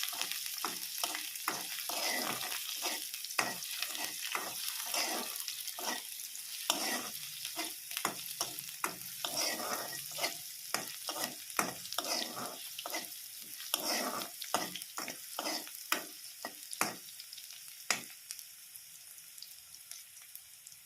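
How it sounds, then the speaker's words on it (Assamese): Onion, chilli and garlic fry in hot oil until reddish, giving a steady close sizzle broken by frequent scraping stirs of the spatula, with no talk throughout. "অলপ ৰঙা হোৱালৈকে এতিয়া ভাজিব লাগিব।"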